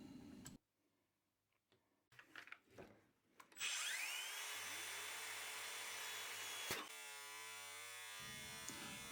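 After some quiet handling noises, a small power saw spins up and runs with a high whine, its pitch shifting as it cuts before cutting off.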